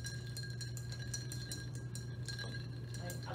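A Gimlet cocktail is stirred in a glass, a rapid series of light metallic clinks and ticks from spoon against ice and glass, close but soft over a low steady hum.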